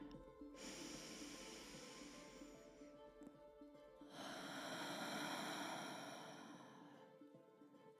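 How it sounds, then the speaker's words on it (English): One person takes slow, deep guided breaths, with a long airy inhale followed by a fuller, louder exhale, close and soft with no talk. "So let's breathe together with me. Inhale."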